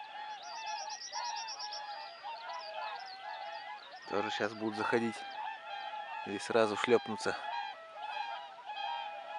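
Geese and swans honk in flight, a continuous chorus of overlapping calls, while someone speaks over them in two bursts during spring hunting.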